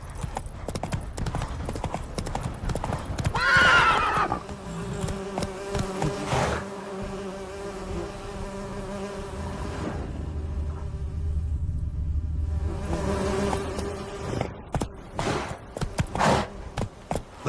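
Roach the horse trots along in The Witcher 3, hooves clip-clopping in a steady rhythm for most of the stretch, with insect-like buzzing and ambient game sounds around it and a brief pause in the middle.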